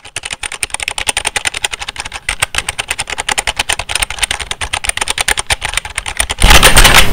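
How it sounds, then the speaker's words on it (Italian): Rapid clacky keystrokes on a cheap mini mechanical gaming keyboard from Wish, loud and close, in dense uneven bursts. A sudden louder rustling noise takes over at the very end. "Oh, raga, è meccanica veramente? Ah, fa un rumore assurdo!"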